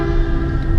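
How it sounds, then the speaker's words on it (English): A Metrolink commuter train arrives on the line toward San Bernardino, giving a loud, steady rumble with a sustained tonal drone, close and continuous throughout the short moment, with no voices. "here comes the train"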